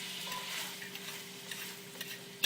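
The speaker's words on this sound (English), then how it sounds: "scrape up the bottom, get all the good stuff, mix it all through" A spoon scrapes the bottom of a pan of potatoes in a buttery, wine-laced sauce, giving soft repeated stirring scrapes over a faint steady sizzle and hum, with a sharper clink at the end.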